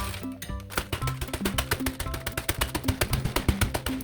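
Rapid, crisp crunching and crackling of vanilla wafer cookies being crushed, close up, repeating in quick irregular bursts for a few seconds.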